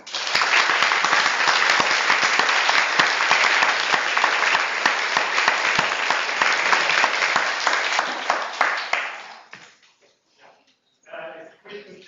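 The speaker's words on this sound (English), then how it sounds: "let's give our writer a big round of applause" Audience at a talk applauding a writer, steady loud clapping for about nine seconds that then dies away, followed by a brief quieter sound near the end.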